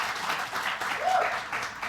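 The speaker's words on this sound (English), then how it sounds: "Round of applause" Applause from an audience at a Surrey student question time debate, a short burst of steady clapping lasting under two seconds.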